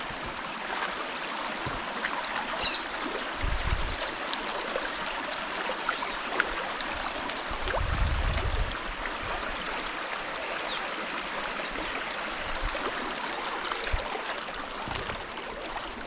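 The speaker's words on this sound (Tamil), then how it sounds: "இங்கே பாருண்ணா தண்ணி எப்படி வருதுன்னு." A mountain stream in Thengumarahada village flows and trickles steadily in a continuous wash, with a few low thumps breaking through now and then.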